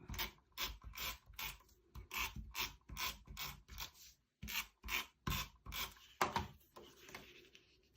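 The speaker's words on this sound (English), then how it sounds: "So I'm just gonna pop it in here and trim those little edges off." A paper trimmer slices the small edges off paper for a scrapbook layout, giving a run of repeated clicking, ratcheting strokes in a steady rhythm, close and fairly quiet, with no talking.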